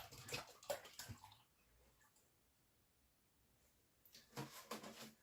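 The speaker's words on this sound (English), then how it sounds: "So I'll just take the top off here and then I'll pour it into this pan." Milk is poured from a carton into a pan, making faint splashing, trickling bursts at the start and again near the end with a quiet pause between.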